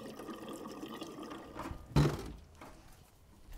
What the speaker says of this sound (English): we'll open the valve and fill the fuel filter bowl and see if the carburetor drips